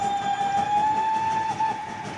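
A magical disco train sounds a sustained whistle tone, a clear, steady note held for about two seconds over a low rolling rumble of the carriages.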